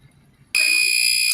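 A loud, continuous electronic beeping tone from a MyMini electric egg cooker's done alarm starts abruptly after a moment of near silence and keeps sounding steadily.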